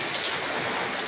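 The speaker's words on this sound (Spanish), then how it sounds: "Ya es la lluvia más fuerte que ha pegado aquí en Mochi." Heavy rain pours steadily in Mochi, a dense, even hiss of drops close by that fills the whole moment with no pauses and no voices.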